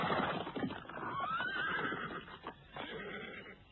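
A horse whinnies loudly and close as a cavalry troop halts, staged as a radio drama sound effect, the neigh rising and falling over a bed of rustling movement and faint hoof clatter.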